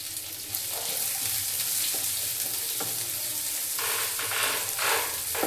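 Chopped onions sizzle and crackle loudly in hot oil in a pan, a dense, steady frying hiss that fills the whole stretch, with occasional stirring scrapes and no voices.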